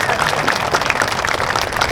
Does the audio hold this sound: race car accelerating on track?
no